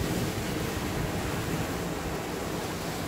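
Large ocean waves pounding a Korean shore at Songjeong, a steady, loud, continuous roar of surf mixed with wind noise buffeting the microphone, with no voices.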